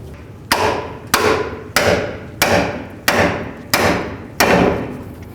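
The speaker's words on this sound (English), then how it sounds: "So now we're going to take a pickle fork and a hammer." Six sharp metallic hammer strikes on a pickle fork between the upper control arm and knuckle of a Chevy Tahoe, at a steady pace, each ringing briefly; loud and close, with no voices.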